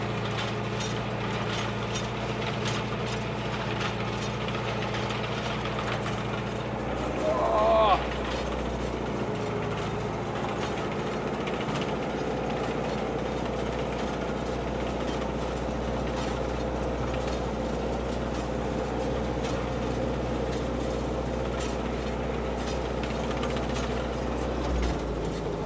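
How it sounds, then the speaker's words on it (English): An old hay baler runs steadily in a field, giving a continuous low mechanical drone with rhythmic ratcheting and clanking from the moving gears, plus a brief rise in noise around the middle. "Dad's old baler's running well"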